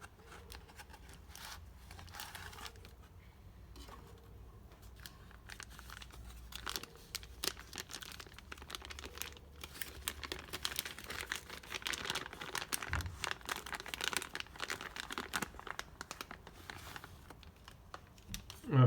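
An NTN wheel bearing kit for a Mercedes W210 is unboxed up close, with its packaging crinkling, rustling and tearing. The sounds start quiet and grow busier and louder toward the end.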